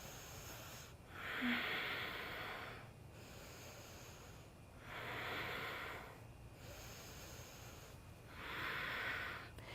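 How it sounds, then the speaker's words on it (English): Three slow, deep breaths during a yoga half moon pose, each a long airy exhale swelling and fading at an even pace, close and alone in a quiet room. "Let's take 3 deep breaths."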